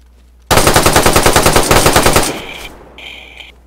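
A BB gun fires at a bird perched in a pine tree outdoors, letting off a rapid, loud string of about twenty sharp cracks in quick rhythm for nearly two seconds, then fading into quieter rustling.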